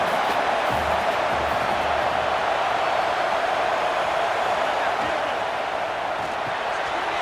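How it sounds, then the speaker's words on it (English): A roaring stadium crowd in College Football 26 during Oklahoma Sooners versus Oklahoma State Cowboys, a steady loud wash of noise filling the whole stretch without letup. "The roar of the crowd trying to fuel this defense to keep them pinned in their own end."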